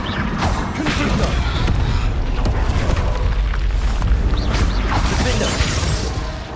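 Confringo fire spells exploding in the video game Hogwarts Legacy: loud, booming blasts close up, with crackles and rumbling layered together and sustained throughout.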